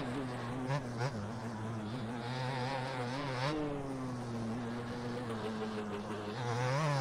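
A two-stroke dirt bike racing at Redbud, its high buzzing engine revving and climbing through the gears, pitch rising and dropping with each shift, fairly close and steady.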